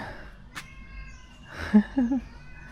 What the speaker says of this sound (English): Look at all the little cats, look.